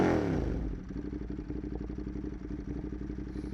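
Ducati Monster 821 Dark engine revving through an aftermarket exhaust with titanium link pipe and muffler, a loud, steady, rumbling drone held close up for several seconds with no talk.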